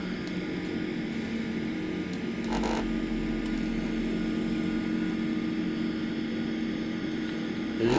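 Steady drone of an aircraft climbing out after takeoff in Microsoft Flight Simulator 2024, a continuous engine hum with a low rumble that holds evenly throughout, no voices.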